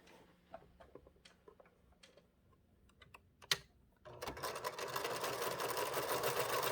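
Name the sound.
sewing machine stitching a quarter-inch seam on fabric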